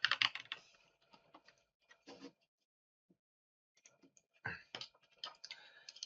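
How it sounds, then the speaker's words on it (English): Keys on a computer keyboard tapped in quick irregular clusters, close and crisp, with a silent pause in the middle before a final flurry of keystrokes. "I will type VMware"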